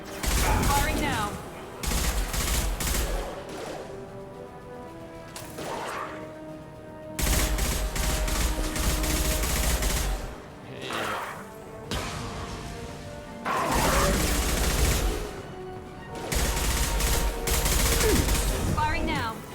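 Heavy automatic gunfire from a shooter-style battle in Mass Effect Legendary Edition, with loud bursts and barrages that come in waves and pause between them, up close and dense.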